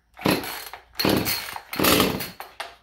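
An Echo CS310 chainsaw, stone cold with the choke set, has its starter cord yanked three times: loud, close, rasping whirs of the recoil starter, each about half a second long, separated by short pauses, and the engine does not catch.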